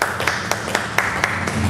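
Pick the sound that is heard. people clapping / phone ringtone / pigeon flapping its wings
people clapping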